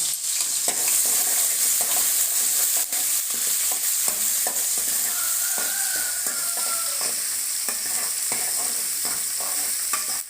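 Tempering spices fry in hot oil in a pan for a greens kootu, a dense continuous crackle and hiss with frequent pops and light stirring scrapes, close up and without talk.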